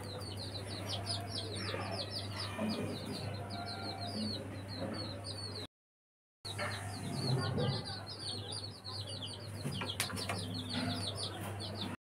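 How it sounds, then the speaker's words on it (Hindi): Pet roosters kept by a family cluck and call repeatedly at close range, with bird chirps in the background and a brief gap of silence midway. "ये है मुर्गे,"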